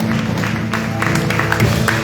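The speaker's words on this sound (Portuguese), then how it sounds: "palmas para o Senhor" A church congregation claps together during an evening worship service, giving a dense, even patter of many hands over a sustained low hum from the room's sound system.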